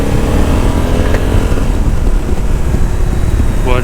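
Honda Africa Twin 1100 DCT motorcycle pulling away and accelerating on a road, with a steady, loud engine drone and wind rush right at the rider.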